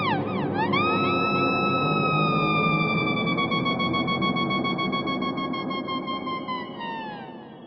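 Electric guitar through the Roby Rocks Green Echoes V3 preset on an Axe-FX III plays one long, sustained note that bends up, holds, then glides off as trailing echoes fade. It plays alone, with no talking.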